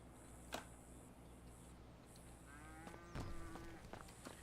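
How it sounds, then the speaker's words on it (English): A cow moos in a video game, Redline RP, a low drawn-out bovine call rising near the end over quiet game ambience with ticking and a few sharp clicks, no talk. "Keep mooing too much, and James is going to be up, or Joey's goin"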